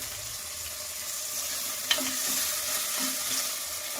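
A large chopped tomato drops into hot oil in a frying pan, adding to a steady close sizzle with a brief clatter and stirring sounds, no talk.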